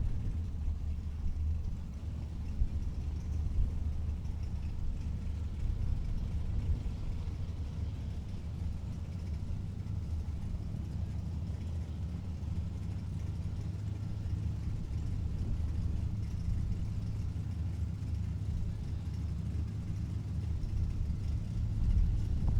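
A twin-turbo Corvette top sportsman drag race car at the Great Bend final rounds, its engine a steady deep rumble held at a fairly constant level throughout with no clear launch surge.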